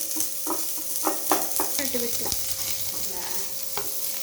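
Onions fry in a pan for spicy Maggi noodles, a continuous close sizzle broken by repeated clinks and scrapes of a spatula stirring.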